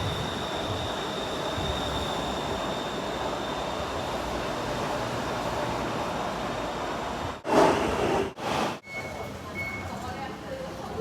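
Ride on a Bangkok train: a steady, loud rumble of the carriage running on rails fills the cabin, broken near the end by a few short, sharp thumps and squeals before the steady roar returns.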